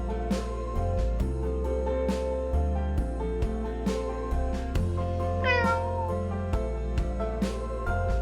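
A white cat meows, one rising-falling cry heard over steady background music with a regular beat.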